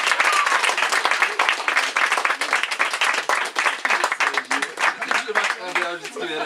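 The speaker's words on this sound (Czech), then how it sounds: "Takže když ještě potlesk pro Vaška." Audience applause at a Škoda Fabia owners' club meetup, dense steady clapping for about six seconds that thins toward the end while voices talk over it.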